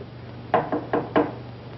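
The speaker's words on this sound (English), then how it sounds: "Someone at the door. Shall I see who it is?" Four knocks on a door in a 1945 film scene, evenly paced raps in quick succession, moderately loud and slightly muffled over a faint steady hum.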